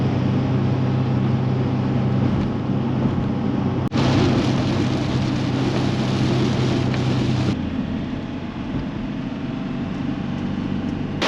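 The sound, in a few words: heavy rain in Scotland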